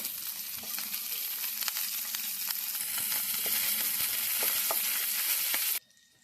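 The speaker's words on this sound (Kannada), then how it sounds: "ಕಾದ ಎಣ್ಣೆಗೆ ಹಸಿಮೆಣಸಿನಕಾಯಿ ಹಾಕ್ತಾ ಇದ್ದೀನಿ" Green chillies dropped into hot oil for a mushroom pepper fry give a loud, close, continuous crackling sizzle with scattered pops, steady for about six seconds before cutting off abruptly.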